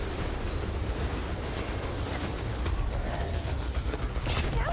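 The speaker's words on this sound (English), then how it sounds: "I thought he was gonna get on the train" A train rolls past in a Ratchet & Clank game trailer, a steady loud rumble and rattle of wagons that lasts the whole stretch with no pauses.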